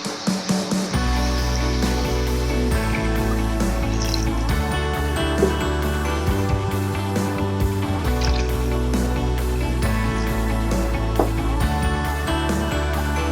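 Water, about one and a half to two litres, is poured into a pot of frying haleem spice mix in ghee, giving a loud, sustained gush and sizzle with bubbling and dripping, and no speech over it.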